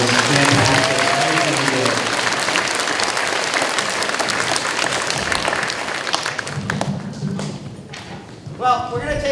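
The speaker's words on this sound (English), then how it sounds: "Third grade, a big round of applause for you." An audience at an elementary school Veteran's Day assembly claps loudly and continuously, the applause fading out toward the end before a brief burst of sound.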